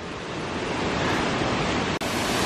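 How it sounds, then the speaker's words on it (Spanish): A waterfall at El Escambray in Jalapa roars as a steady, loud, broadband rush of falling water, continuous and close with no voices. "Mire, Chatele, esta es otra de las cascadas más arriba"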